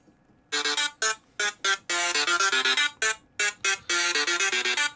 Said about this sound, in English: This is my actual ringtone, okay?